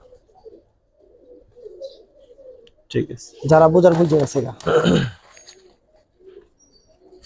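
Giribaz pigeons in a loft give soft, low coos at the start and end, with someone talking loudly over the middle.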